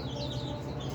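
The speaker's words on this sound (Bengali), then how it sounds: "কবুতরের বাচ্চা।" Pigeon chicks, a young pair kept by a hobbyist, give soft high peeping calls that run steadily through the second, faint and close against a low background hum.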